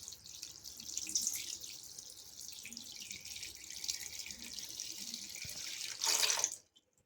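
Tap water runs steadily into a cup or bowl of wheat flour for halwa, a continuous splashing pour that swells louder near the end before cutting off abruptly.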